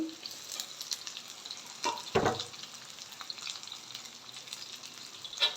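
Shredded cabbage for khichdi sautéing in a pan, with a low continuous sizzle and scattered stirring scrapes, plus one sharp utensil knock partway through.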